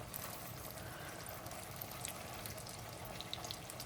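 White bass fillets piled into a small skillet, frying with a faint, steady sizzle and crackle and a few tiny pops, with no talk over it.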